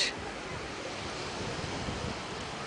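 Ocean waves breaking into white foam, a steady, close, broadband roar with some wind buffeting the microphone and no clear pauses between breakers.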